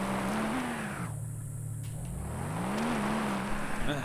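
A vehicle engine held at full throttle in the LEGO Jurassic World video game drones steadily, its pitch rising and dipping in smooth swells, moderately loud and uninterrupted without speech.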